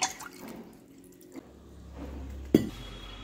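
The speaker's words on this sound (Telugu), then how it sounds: "ఇప్పుడు నీళ్లు పోసుకోవాలి" Water poured into a small pot for a Friday pooja at a main entrance, a soft, low trickle with a brief louder splash near the end and no voices.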